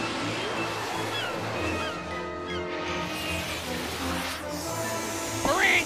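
Cartoon ocean waves surging and sloshing in a steady wash, with a brief louder splash near the end, no voices over it.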